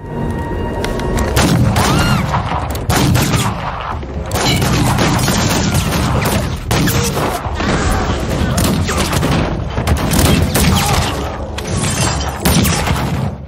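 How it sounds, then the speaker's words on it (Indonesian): Gunfire exchange in a Western film bar scene, loud repeated shots and booms with shattering crashes over a dense, continuous action mix for the whole stretch. "Preacher datang dan menembak Cleet dari belakang, lalu memicu baku tembak di situ"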